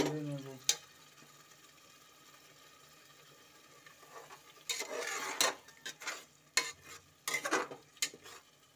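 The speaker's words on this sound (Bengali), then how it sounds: "ভালো করে নেড়ে চেড়ে নিচ্ছি যতক্ষণ না এটা মধ্যে ভালো একটা পেস্ট গন্ধ বেরোচ্ছে" Spice paste is stirred while frying in a pan, faint at first after a single clink, then bursts of spatula scraping and sizzle in uneven strokes during the second half, with a voice briefly present.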